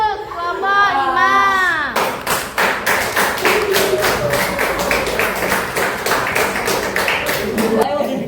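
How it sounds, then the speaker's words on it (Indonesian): Classroom applause for a student group, a dense run of rapid clapping from many hands that starts abruptly after a sung or spoken lead-in and carries on steadily, fairly close and loud. "Beri aplaus untuk kelompok 5."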